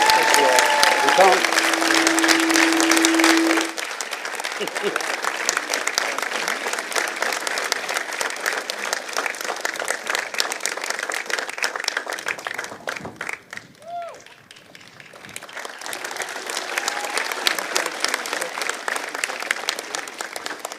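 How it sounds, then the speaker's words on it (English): Sustained applause from a large audience at a university convocation ceremony, steady and full for many seconds, dipping briefly before swelling again. "Please, a round of grateful applause for Colin Campbell."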